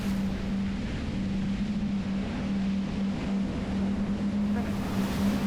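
Twin new outboard engines drive a Rock 36 maxi RIB through steep chop in 30-knot wind, producing a steady, loud, continuous hum with a strong low drone and broad wind and water rush throughout.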